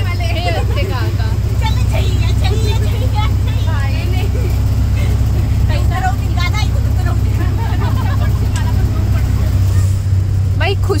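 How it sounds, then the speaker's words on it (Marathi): Steady loud engine drone and road rumble from inside a moving truck on the way to Kasara station near Igatpuri, with several people talking and calling out over the noise throughout. "आता आम्ही ट्रक मध्ये चाललेलो आहे कसारा स्टेशन"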